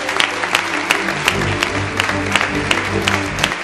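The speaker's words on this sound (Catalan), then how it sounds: "per a qui demano un fort aplaudiment" A crowd at a PSPV-PSOE campaign rally in Morella breaks into loud, sustained applause, dense clapping filling the hall steadily with a faint crowd murmur beneath.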